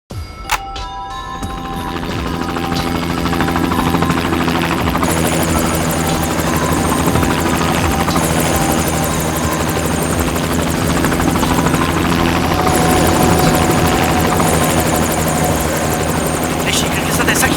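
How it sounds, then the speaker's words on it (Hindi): A helicopter in flight heard from a black box recording, with a loud, steady rotor and engine drone that builds up quickly in the first two seconds and then holds for the rest. "ब्लैक बॉक्स की रिकॉर्डिंग सुनते हैं, पता चल जाएगा उड़ान के वक्त हेलीकॉप्टर में क्या बातें चल रही थी।"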